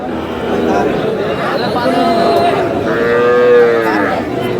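Sahiwal bull calves low repeatedly at a cattle market in Nawabganj, Dinajpur, with drawn-out moos from nearby animals rising over a steady murmur of crowd voices.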